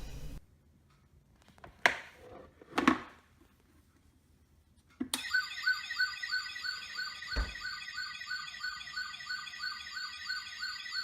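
A battery-operated toy fire trike siren wails in a rapid, repeating up-and-down electronic tone, loud and close, starting after a few seconds of handling knocks and continuing steadily to the end.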